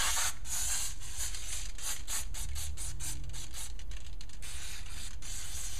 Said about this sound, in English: but I'm gonna spray this now